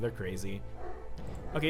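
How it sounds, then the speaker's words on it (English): Dogs bark and yip in a few short bursts indoors, mixed in with a person talking over them. "Sorry about the dogs. I have dogs."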